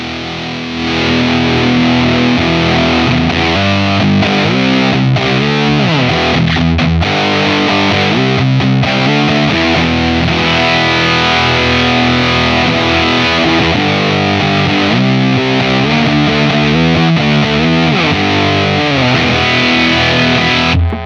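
Electric guitar runs through an Old Blood Noise Endeavors Excess V2 distortion pedal with the distortion level pushed up. The loud, thick, saturated chords and riffs play continuously with no talking.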